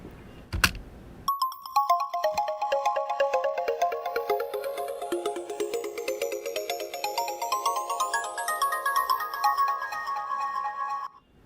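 Bright, plucky FM synth notes in a prog trance track run as a fast, steady arpeggiated pattern with shifting pitch, loud and upfront, entering after a short percussive hit and continuing alone for about ten seconds.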